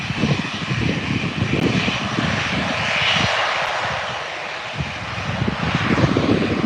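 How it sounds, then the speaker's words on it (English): A Qatar Airways Boeing 787-8 taking off and climbing out of Birmingham Airport, its jet engines producing a loud, steady broadband roar with a rushing hiss that swells slightly midway, heard from outdoors without talking. "Qatar Airways 787-8 about to head out. I'll climb out of Birmingham Airport."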